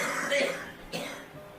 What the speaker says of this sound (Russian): Плохой кашель.